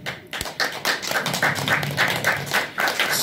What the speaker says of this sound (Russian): Поэтому, если нравится, хлопайте.